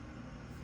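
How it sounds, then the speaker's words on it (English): A bus driving through a parking lot, heard as a faint, steady low engine rumble from some distance outside, continuous and unbroken with no voices over it. "Golly, they driving a bus in the parking lot?"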